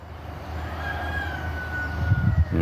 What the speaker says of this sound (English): I know they're not chickens, they're blue chickens. Peacocks.